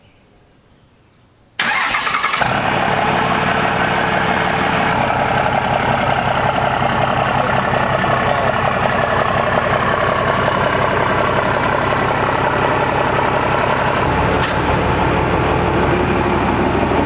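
A compound-turbo 12-valve Cummins diesel truck engine cranks and fires after a quiet moment, then settles into a loud, steady, close rumbling idle that runs on without a break.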